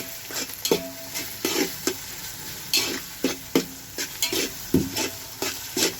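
Chopped onions for biryani fry in hot oil in a home kitchen, a steady sizzle broken by repeated scraping stirs of a spoon against the pan at an uneven rhythm, close and alone with no talking.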